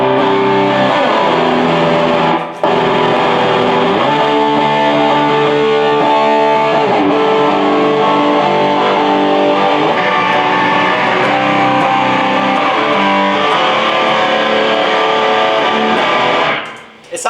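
A distorted electric guitar, the second player's part in a rock recording session, plays sustained chords and riffs loudly and steadily while its tone is adjusted, with no talk over it.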